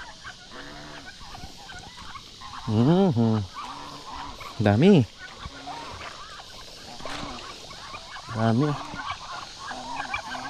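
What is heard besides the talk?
turkeys gobbling on a mini farm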